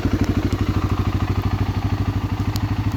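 Engine of a 2004 Polaris Predator 500 2WD ATV running close by, with an even, loping thump of rapid regular pulses and no voices.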